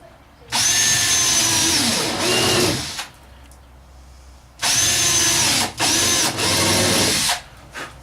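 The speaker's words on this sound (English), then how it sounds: "Countersink ever so slightly." A power drill countersinks screw holes in a wardrobe cabinet for a DIY travel trailer, with two close, loud bursts of whining motor noise, each revving and briefly pausing before stopping.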